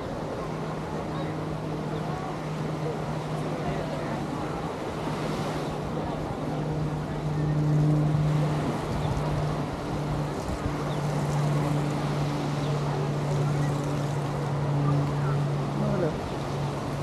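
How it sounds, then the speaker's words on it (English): Ocean waves wash steadily onto Waikiki beach in a continuous surf roar with a faint low engine hum beneath, heard up close and loud. "I'm gonna clam up so you guys can hear the waves"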